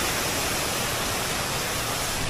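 A waterfall beside a railway platform on the way to Bhaskargad fort, roaring as a steady, dense wash of falling water that fills the whole stretch, close and loud, with no voices.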